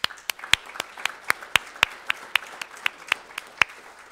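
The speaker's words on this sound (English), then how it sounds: "giving her a round of applause" Scattered clapping at a school governing board meeting, a handful of sharp, separate claps at an uneven rhythm, fairly faint and spread through the room.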